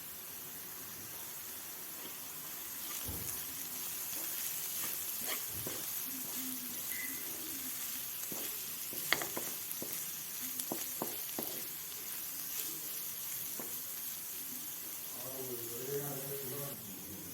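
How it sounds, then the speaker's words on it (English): Three spices are stirred into a tuna croquette mixture with onions in a hot pan. A soft, steady sizzle runs throughout, with scattered scraping and tapping clicks from the stirring. "I'm going to mix it really well."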